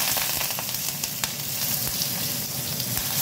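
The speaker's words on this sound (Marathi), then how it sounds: "आपलं तेल तापलेलं आहे, त्याच्यामध्ये मोहरी, हिंग, कढीपत्ता" Mustard seeds, asafoetida and curry leaves spit and crackle in hot oil for a Marathi cauliflower dry bhaji, a dense, close sizzle with sharp pops scattered throughout and no talking.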